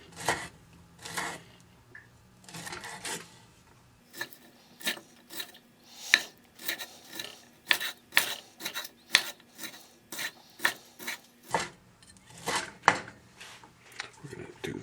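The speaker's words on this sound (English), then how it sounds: "I'm going to just drop in a couple of the Chinese sausages, and I'm just gonna cut them up small like this," A knife cuts Chinese sausages into small angled pieces, giving a steady run of short, crisp chopping strokes on a board, close and fairly quiet, with a brief voice in the pauses.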